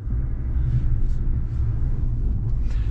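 A GMC Sierra 1500 Limited AT4 diesel truck rolls off-road through snow, giving a steady low engine rumble with faint tire and cabin noise and no talk.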